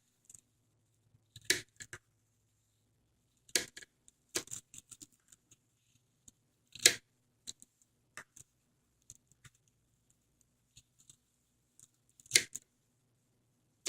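Scissors snipping through plastic bags to make plarn, sharp isolated cuts spaced irregularly, several close crisp snips against near silence.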